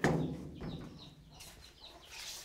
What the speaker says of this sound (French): Ça, c'est la cour avec mes animaux, les poulets et les canards.